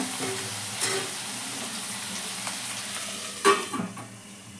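Onions and tomatoes fry in a pan for badanekayi gojju with a soft, steady sizzle close by, and a brief utensil clatter partway through.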